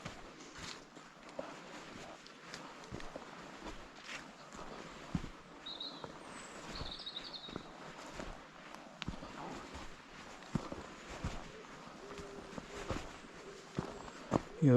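Footsteps squelching along a thick, clotted mud path in the countryside near a waterfall, a steady close walking rhythm with faint birdsong in the background.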